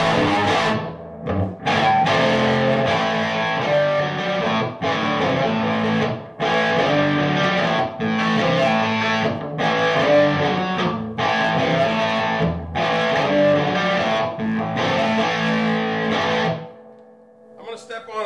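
An electric guitar played through a tube amp rings out in loud, slightly driven chords, strummed in steady repeated bursts with short gaps, before fading to near silence at the end.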